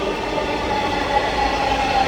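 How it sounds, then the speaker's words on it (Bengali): A train pulling into a Dhaka metro station, a steady loud rumble of wheels and carriages with a faint high squeal of wheels rising toward the end. "আরেকটা ট্রেন চলে আসছে"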